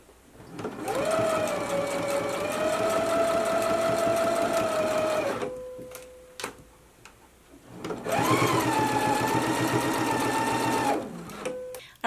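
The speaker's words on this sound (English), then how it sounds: "let's go ahead and do our stitching now." Sewing machine stitching a shoulder seam on a twist-front top, two steady bursts of fast even whirring, each several seconds long, separated by a brief pause with light handling sounds.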